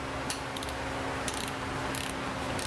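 Ratcheting of a torque wrench tightening bolts on a 5R55S automatic transmission, faint repeated clicks against a steady loud hum from the workshop.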